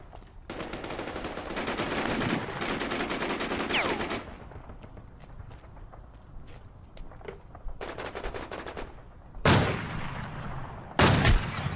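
Rapid automatic gunfire in the online shooter War Inc. Battlezone, loud sustained bursts during a fight over a capture point, then quieter scattered shots and two sharp late blasts.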